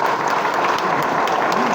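Crowd applause at a political rally in Ratnagiri: a dense, steady wash of many hands clapping close by, holding at an even level from start to finish.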